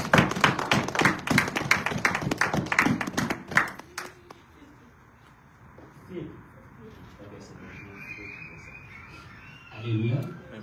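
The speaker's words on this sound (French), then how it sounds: "Applaudissons pour Israël." A church congregation claps hands together in a brisk rhythmic burst for about four seconds, then the clapping stops and softer sounds and a voice follow.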